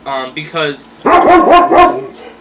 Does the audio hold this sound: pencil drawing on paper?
no